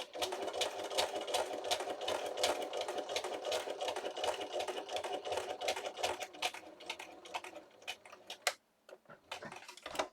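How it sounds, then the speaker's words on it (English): A sewing machine stitches through a paper lunch sack in a fast, steady ticking run of needle strokes. It stops briefly near the end, then gives a few more clicks. "All right, that's it for the sewing machine."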